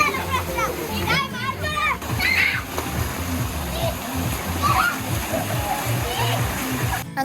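Children jump and splash into a swimming pool at a homestay near Neyyar dam, with water splashing throughout and excited kids' voices and shouts over it.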